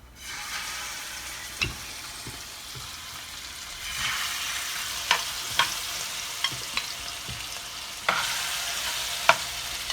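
Shrimp drop into a hot skillet and fry with a close, steady sizzle that swells in bursts, with a few sharp pops and clicks scattered through and no voices.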